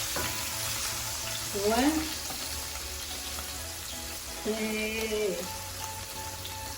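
Meat frying in oil in a home kitchen, a steady broadband sizzle with brief stirring scrapes, while a voice counts briefly in the background.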